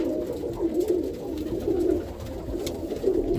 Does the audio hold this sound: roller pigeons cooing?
yes